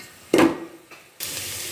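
Onion paste frying in oil in a pan, with a brief loud burst of sizzling and stirring at the start, a quieter pause, then a steady hiss resuming.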